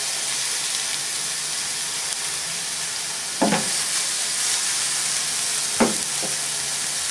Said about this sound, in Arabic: غادي نديرو البصلة فواحد المقلة، نضيفو لها الزيت